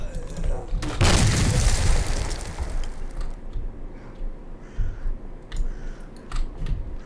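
A single loud, close gunshot boom in S.T.A.L.K.E.R. Call of Pripyat, followed by a fading rumble and quieter clicking game sounds.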